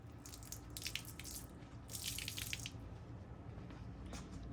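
Water runs steadily from a tap while a dirt bike air filter from a Yamaha YZ 250X is washed, with splashy bursts and drips rising over the constant flow, fairly quiet with no talking.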